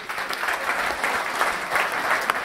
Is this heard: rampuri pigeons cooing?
no